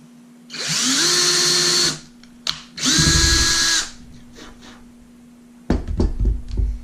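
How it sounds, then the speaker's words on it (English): A power drill whirs in two bursts of about a second each, drilling a hole in a knife sheath, winding up and down, followed by a few clattering knocks and taps. "so I'm going to drill that out"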